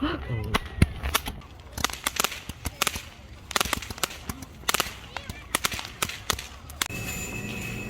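Sharp cracks and pops of fireworks going off at Daecheon beach, South Korea, in quick irregular bursts, some close and loud, with brief voices mixed in.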